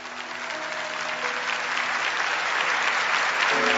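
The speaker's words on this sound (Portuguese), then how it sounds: "Aplauda esta palavra." Church congregation applauding at a religious gathering, a dense, even wash of clapping that builds slightly and holds steady throughout, with no talking over it.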